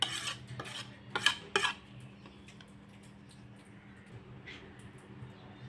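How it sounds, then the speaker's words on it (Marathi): A few soft scrapes and clinks as a lentil sandge mixture is stirred with chopped coriander, crushed chilli and salt in a bowl, clustered in the first two seconds before fading to quiet. "असं मिक्स करून घ्यायचं आहे"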